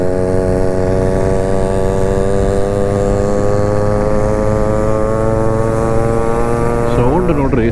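A Yamaha motorcycle on a freedom group ride idles with a steady, loud, buzzing engine drone, its firing pitch holding nearly level and wavering slightly near the end, close by and continuous.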